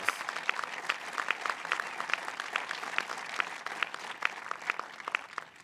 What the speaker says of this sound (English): So I want to give him another round of applause.